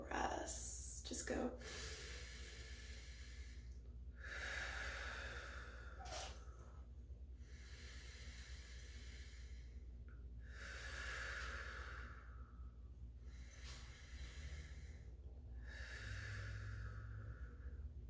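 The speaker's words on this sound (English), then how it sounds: "I want you to stay there for 3 deep breaths." Slow deep breaths drawn and released during a seated yoga neck stretch, four or five long airy exhales in a steady rhythm, close and soft over a low room hum with no talking.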